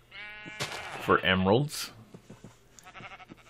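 A sheep bleats once in a video game village, loud and wavering for about a second, with someone talking over the moments before and after it.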